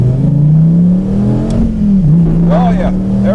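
A Viper's engine revs hard and holds a loud, steady roar as it launches with wheel spin, the pitch climbing then dipping briefly, with people talking over it inside the car.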